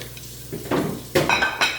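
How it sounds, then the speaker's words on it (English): Cooked bacon chopped into small pieces for jalapeño cornbread, a few sharp knife knocks against a cutting board in quick succession, close and clear with no talk. "So just chop it all up into little bitty pieces"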